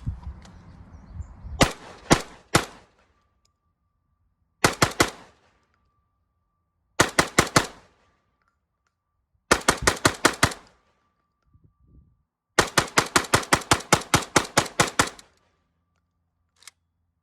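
Rifle fed from a Shooting Sports Innovations Mega Mag firing 29 rounds at about 1300 feet per second, loud sharp shots in rapid bursts of two to eight separated by short pauses, with a quiet stretch at the start.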